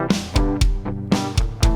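A double-tracked Gibson Firebird electric guitar plays a short, punchy riff of about six sharp, distorted chord hits in an uneven rhythm, loud and up front.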